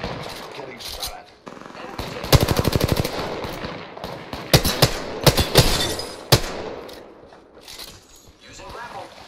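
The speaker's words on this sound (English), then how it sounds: "Getting shot at." Gunfire in the video game Apex Legends, loud rapid automatic bursts and single shots scattered over several seconds, with voices talking in between.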